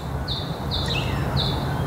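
Tasmanian birds near an old bus give three clear, high whistled chirps, evenly spaced over a constant low rumble of background noise.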